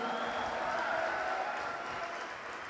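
Audience clapping at a Hindi poetry and comedy stage performance, a steady fairly loud wash of applause with some tonal crowd noise or voices mixed in, lasting the whole moment.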